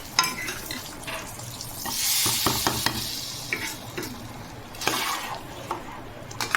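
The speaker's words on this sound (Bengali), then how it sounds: "এইবারে ডিম ভাজাগুলো ডালের মধ্যে দিয়ে দেব আর যে ফোড়নটা রেডি করে রাখলাম সেটা দিয়ে দেব" Tempering poured into lentil dal with fried eggs, sizzling steadily with broad hissing bursts and scattered clinks of stirring, close and fairly loud, no voices.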